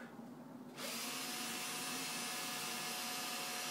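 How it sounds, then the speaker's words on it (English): A power drill drives self-tapping screws into a model airplane servo mount, spinning up after a brief quiet moment and running at a steady, high whine, close by and alone. "again, let the drill do all the work"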